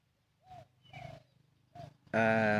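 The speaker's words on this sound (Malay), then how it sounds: "Dengar tak dengar? Burung terkukur. Sedap bunyi dia." Soft, low spotted dove coos repeat a few times at a distance in a garden, then a louder burst of bright, harmonic noise cuts in at the end.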